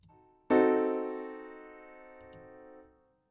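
A C fully diminished seventh chord sounds as one sustained sampled piano-like block chord, struck loud and clear with no talking, then left to ring and fade over about three seconds.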